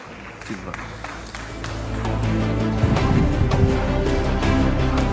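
An audience at a 2024 Indonesian vice-presidential debate claps and cheers, a dense patter of many hands that swells and stays loud, mixed with crowd voices.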